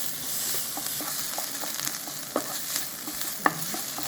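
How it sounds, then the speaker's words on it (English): Onion mixed with pepper paste is stirred and fried in a pan: a continuous sizzle broken by scraping spoon strokes and a few sharper clicks, close and clear, with no talking. "Mixed onion with pepper paste, then we add chickpeas."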